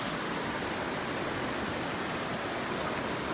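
Shallow river riffle rushing over stones, a dense, even roar of running water close by, steady and unbroken with no voices.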